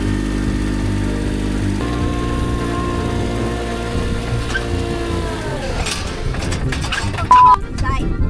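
A vehicle engine runs at low speed with a steady droning note that steps up in pitch as it revs harder, then roughens with clatter and knocks; people talk over the engine at times.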